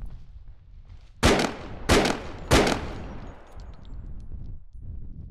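Three sharp single pistol shots ring out in the video game Bodycam, about 0.6 seconds apart, each loud with a decaying tail over a low background rumble.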